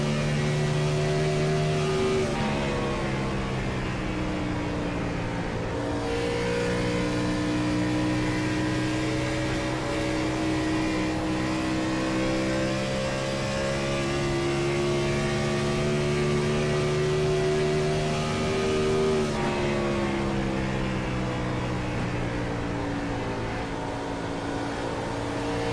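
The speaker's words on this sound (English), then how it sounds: "Listen to those Gen 4 engine sounds for a moment." Gen 4 stock race car engines heard on board in a racing video game, a loud sustained droning roar with pitch that climbs gradually and drops sharply at shifts, continuous with no talking.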